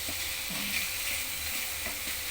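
Ground pork is stirred into adobong kangkong in a hot pan, giving a steady, dense sizzle with a few soft scraping strokes from the spoon.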